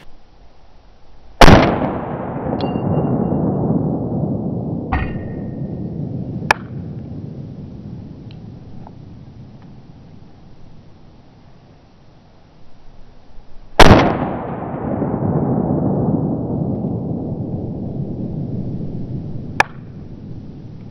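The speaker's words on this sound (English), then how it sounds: "2 shots out of each again. This time starting with the G4 Glock" A Glock G4 pistol fitted with a Strike Industries slide compensator fires two sharp shots about twelve seconds apart, each a loud close crack followed by a long rolling outdoor echo, with smaller clicks and pops in between.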